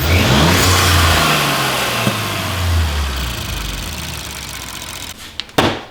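An Audi S5 B9 fitted with a Unitronic cold air intake revs hard, its engine note climbing and falling in a loud, close roar before settling, followed by a few brief clunks near the end.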